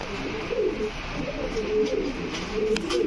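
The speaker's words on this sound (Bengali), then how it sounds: "এটা কি কবুতর জানো ভাই? Spanish গরগরিও Potter." Fancy pigeons, including Spanish Gorguero Pouters, coo softly and repeatedly at a pigeon farm, low rolling calls over a quiet background hum, with a few faint higher chirps near the end.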